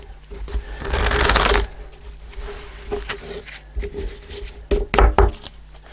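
A tarot deck is shuffled by hand in one loud, fast riffling burst of about half a second. Quieter card handling, taps and light knocks on a surface follow.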